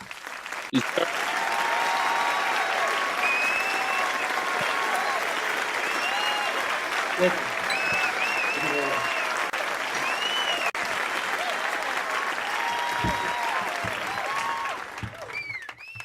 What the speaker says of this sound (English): Also, let's give a round of applause for the Hunters.